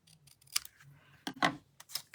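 Scissors snip through paper during card making, a few quick, crisp cuts close up, separated by short pauses in an otherwise quiet room.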